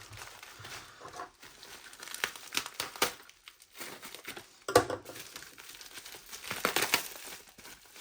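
Plastic wrapping crinkles and rustles in irregular bursts up close as AliExpress gadget packaging is pulled open, with a few sharper crackles midway.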